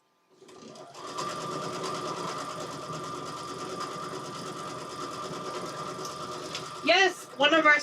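A home sewing machine backstitches at the corners of a quilt piece, running in a fast, steady mechanical whir for several seconds before stopping, followed by brief bursts of speech close by.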